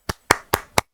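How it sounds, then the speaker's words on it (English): Four sharp hand claps in quick succession from a staff panel opening event, close and clear with no voices, more like one person clapping than a full crowd. "So we want to just give a big round of applause for him."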